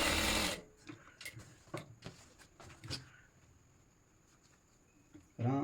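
Sewing machine stitching a pant pocket, with a short loud run of stitching at the start and again at the end, separated by quieter handling clicks and fabric rustles.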